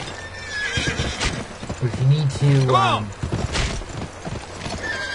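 A horse whinnies loudly with rising and falling tones amid clip-clopping hooves in the Western video game Gun during a race, with someone talking over it.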